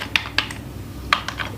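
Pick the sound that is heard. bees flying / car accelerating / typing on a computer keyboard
typing on a computer keyboard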